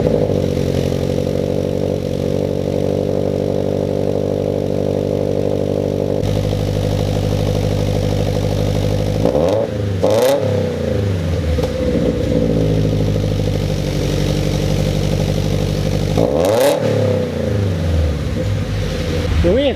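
A Subaru BRZ with MXP unequal-length headers, overpipe and MXP Comp RS catback idles loud and steady, then revs sharply twice, each blip rising and falling back to a rumbling idle.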